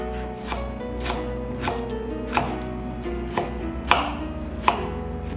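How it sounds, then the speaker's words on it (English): A knife chops tomatoes into small pieces on a board, about seven sharp, evenly spaced strikes close by, with no talking over them. "then chop them into small pieces"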